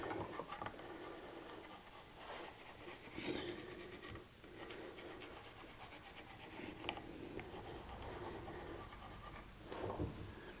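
A pencil scratches marks onto a flattened, glued-up wood panel in a series of short, soft strokes with brief pauses between them. The sound is close but faint, and there is no talking.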